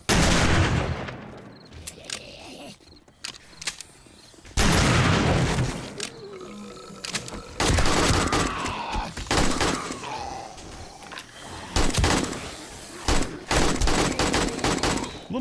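Loud bursts of close gunfire during a horde night in 7 Days to Die, repeated in heavy volleys broken by short pauses and a few booms, with no talk over them.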